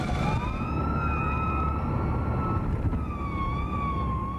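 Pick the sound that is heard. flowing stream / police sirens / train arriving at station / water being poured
police sirens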